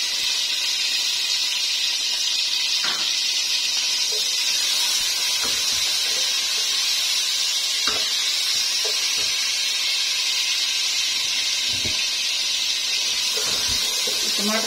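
Tomatoes added to a hot frying pan for a mixed vegetable sabzi, giving a continuous loud sizzling hiss with faint clinks throughout.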